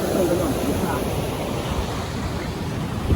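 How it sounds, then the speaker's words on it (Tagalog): A strong river current at a fishing spot rushes as a steady, broadband roar of flowing water, loud and continuous with no pauses. "Lakas ng agos."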